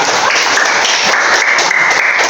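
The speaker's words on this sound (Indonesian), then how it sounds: "Tepuk tangan teman kita." Classroom students clap for a classmate after a question, a loud, close, steady burst of collective clapping that runs without pause.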